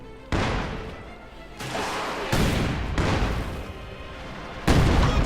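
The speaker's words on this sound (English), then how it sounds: "We are being fired upon!" Gunfire and heavy booms from the World War II strategy game Company of Heroes 2, with several loud broadband bursts landing in sequence and a constant rumble of battle in between.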